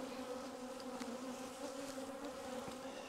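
Honey bees buzzing around a hive in spring, a dense, steady hum of many insects up close and continuous throughout, with individual bees briefly whizzing past.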